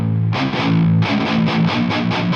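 An electric guitar chord rings out through a Cabinetron IR loader with its mild non-linearity setting on, a distorted, saturated tone struck then strummed in a steady pulsing rhythm, loud and alone.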